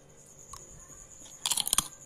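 Melinjo skin chips being eaten give a few sharp, close crunches in a quick cluster, with a faint bite earlier over a quiet background.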